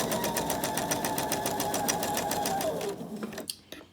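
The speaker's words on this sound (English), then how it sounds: "I'm just going to sew my 1/4 inch seam." A sewing machine runs steadily, stitching a quarter-inch seam through quilt pieces for a candy dish pillow, with a fast, even needle rhythm close up for about three seconds before it stops and a few small handling clicks follow.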